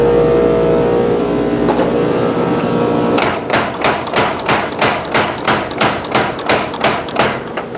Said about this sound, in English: So I'm forging the tip up on this knife a little bit here. Got my tiny little hammer